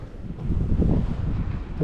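Steady, strong, cold spring wind roars and buffets the microphone outdoors on a fishing trip, a low broadband rush that swells and holds without pause.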